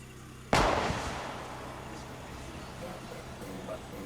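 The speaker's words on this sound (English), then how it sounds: "A little gunshot and the place clears out?" A single sharp gunshot fired as a warning shot in the video game NORCO, loud and close, with a long decaying echo fading into a quiet ambient background.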